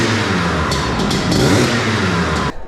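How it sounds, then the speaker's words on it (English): A motorbike engine revs loudly at close range at an indoor classic bike show, a steady raspy roar with a couple of throttle blips before it suddenly cuts off near the end. "That's where they start all the bikes over there."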